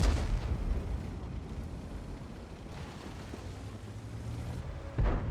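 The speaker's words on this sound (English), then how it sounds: "I'm shooting the T-54 and my shell is going right into the ground" Tank cannon shots in the video game World of Tanks, a deep booming blast at the start and another near the end over a low rumbling engine bed, with no voice.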